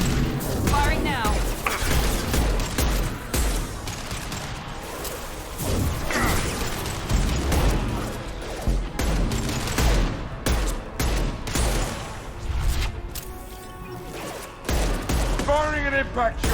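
Gunfire in the Mass Effect 2 video game, including an impact shot: dense, continuous bursts of shots and crashing impacts rattle on throughout, with voices talking over the combat.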